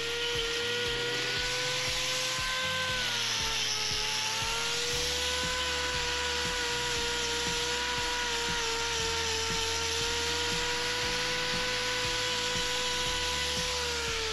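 An electric grinder trims a big black bull's split heel hoof: a steady high-pitched whine that runs throughout, with rhythmic low rumbling and knocks beneath it.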